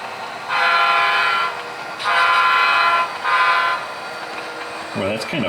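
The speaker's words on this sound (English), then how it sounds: "here comes our next train" A model train's horn toots three times in sustained blasts, with the steady rumble of the running train underneath and a brief voice at the end.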